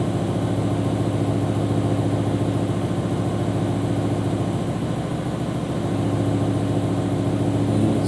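A BMW E60 M5 engine runs steadily with a cylinder misfire, a continuous loud mechanical drone with a faint uneven pulsing rhythm throughout and no one speaking.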